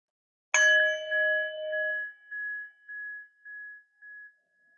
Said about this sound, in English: taking the sound of the bell, following it to the end